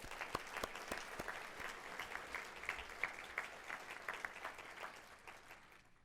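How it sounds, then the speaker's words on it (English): Audience applause at a League of Women Voters 100th anniversary celebration, a steady wash of many hands clapping with a few sharp individual claps, fading out toward the end. "Let's give a nice round of applause to Margaret, Debbie, and all those who participated in creating this wonderful video."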